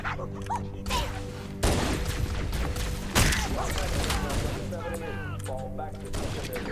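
Gunfire from the Halo video game crackles in dense, rapid bursts of automatic shots alongside mechanical clatter. The loud, continuous bursts come in waves, with faint game voices in the background.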